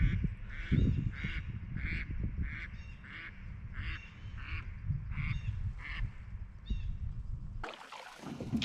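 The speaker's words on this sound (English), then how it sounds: "Mallard." Mallard ducks quack in a regular series of repeated calls over water, heard from a kayak, with low rumbling boat and water noise close underneath until the calls stop near the end.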